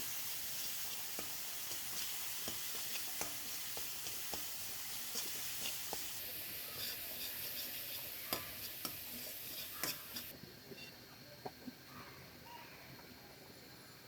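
Cow trotters fry in a pan with mustard oil, giving a faint, continuous sizzle dotted with small pops and crackles that grow a little busier toward the end, heard close and alone.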